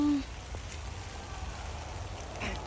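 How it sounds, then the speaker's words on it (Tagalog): Rain falls steadily on a farm during pruning work, a faint, even hiss of drops that continues throughout without talk. "Ang lakas na ng ulan, guys, kaya uuwi na kami."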